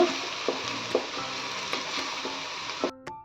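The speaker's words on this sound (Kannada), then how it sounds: "ಈರುಳ್ಳಿ ಕಟ್ ಮಾಡಿ ಇಟ್ಕೊಂಡಿದ್ದೀನಿ, ಅದನ್ನು ಹಾಕೋತೀನಿ. ಚೆನ್ನಾಗಿ ಕೆಂಪಾಗೋವರೆಗೆ ಫ್ರೈ ಮಾಡ್ಕೋಬೇಕು" Chopped onions sizzle steadily in hot oil in a pan, a continuous close frying hiss with soft stirring clicks, stopping abruptly near the end.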